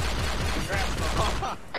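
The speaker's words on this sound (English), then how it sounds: "I'm hearing gunfire." Rapid bursts of gunfire in Arma 3, a fast run of sharp shots over dense background noise, with a faint voice underneath.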